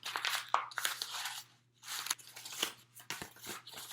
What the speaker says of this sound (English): so I'm going to crumple it a few more times